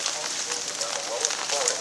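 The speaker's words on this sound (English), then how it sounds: "we're out in the rain" Rain falling steadily during an outdoor rainstorm, a dense continuous patter close by with slight surges in intensity.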